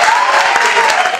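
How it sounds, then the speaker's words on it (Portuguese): Dense, loud applause from a studio audience on a Brazilian talk show, a continuous wash of many hands clapping close by for about a second, with no voices on top. "Aplaude mais um aí, por favor."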